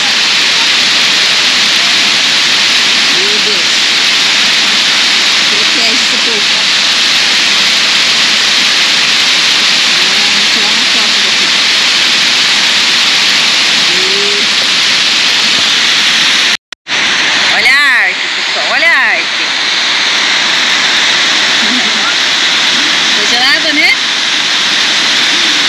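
A waterfall at Cachoeira da Palmeira in Arapoti, Paraná, roars in a loud, steady, hissing rush that fills the whole stretch, interrupted by a momentary dropout and a few handling bumps.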